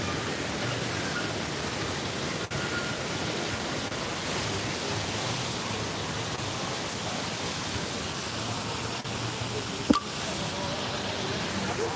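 Waterfalls pour in a continuous broad rush of water that holds steady for the whole stretch, with only a brief knock or two breaking through, at a theme park on a cold day.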